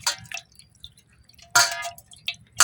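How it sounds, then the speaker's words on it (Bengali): Water dripping and splashing while raw chicken is washed in a village kitchen before frying, with sparse wet drips and two louder splashy bursts over near silence, close by and without speech. "তো এখন আমি পরিষ্কার করে ধুয়ে নেব"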